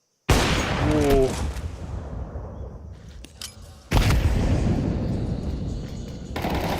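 Grenade explosions in a Counter-Strike match arrive as loud booming bursts, one at the start and another midway, with rumbling debris and gunfire between them and a further burst near the end.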